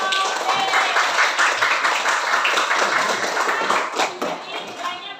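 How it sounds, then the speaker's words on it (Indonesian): A classroom group claps and applauds for group B, a dense, steady wash of many hands lasting the whole stretch and tapering slightly at the end. "Kasih tepuk tangan untuk kelompok B."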